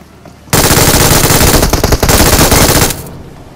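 Loud, close automatic gunfire bursts out abruptly in a mobile shooter game as an enemy pre-fires, a dense rapid stream of shots lasting around two and a half seconds before cutting off.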